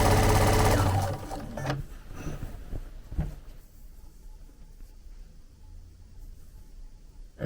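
A sewing machine stitches through quilt layers in a short, loud burst of rapid mechanical chatter, then falls quiet to faint room noise.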